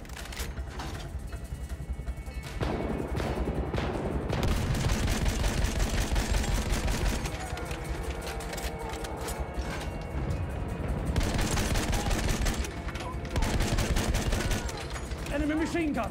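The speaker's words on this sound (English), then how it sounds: "Enemy machine gun sighted! Machine gun, one of theirs!" Machine gun fire from the video game Battlefield 1 keeps up as dense, continuous rattling bursts, along with engine and battle noise and voices shouting over the din.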